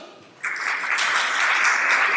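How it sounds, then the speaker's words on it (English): Audience applause bursts out suddenly after a brief quiet and holds as a dense, steady clapping through to the end. "let's give a round of applause to Mr."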